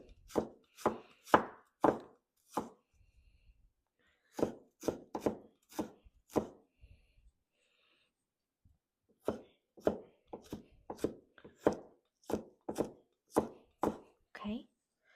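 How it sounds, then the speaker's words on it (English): A knife chops ginger on a cutting board in quick bursts of crisp, close thuds, two runs of rapid strokes separated by a short pause, with no talking. "and then I'm going to cut the ginger"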